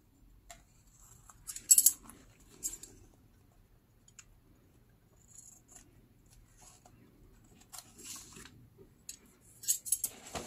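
Scissors cut through newspaper while a journal cover is being made: quiet, close snips and crisp paper rustles come in sparse bursts with pauses between them.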